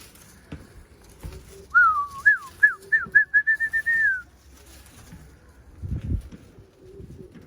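A bird gives a quick series of rising whistled notes, clear and fairly close, over faint outdoor background noise with a few soft thumps.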